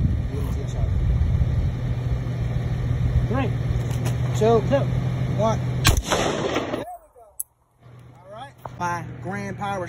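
Several sharp, loud gunshots crack close by at an outdoor shooting range, with a steady engine-like hum underneath and people talking between shots.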